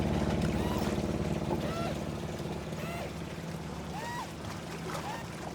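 The sailboat Scamper motor sails south of Portland Bill into Lyme Bay, its engine giving a steady low drone under broadband rushing water and wind noise, with faint squeaks and creaks scattered through.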